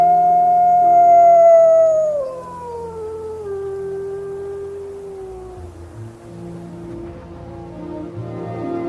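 Wolves on the open tundra howl in long, sliding wails, one strong voice falling in pitch while others overlap more faintly at a distance, with no talking.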